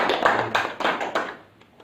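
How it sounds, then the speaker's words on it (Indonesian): Classroom students giving a brief round of applause for a classmate, a short burst of several quick claps close by that trails off into quiet. "Berikan tepuk tangan Sanjaya."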